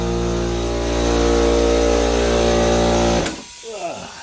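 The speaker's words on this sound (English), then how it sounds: "My darn air compressor kicked on." An air compressor hums loudly and steadily nearby with a droning motor tone, then cuts off abruptly near the end, leaving a quieter room.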